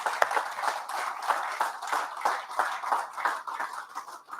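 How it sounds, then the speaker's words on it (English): A crowd applauds at an Army change of command ceremony, steady, dense clapping from many hands at moderate loudness that continues throughout and slowly tapers near the end. "Let's give Deb a big round of applause"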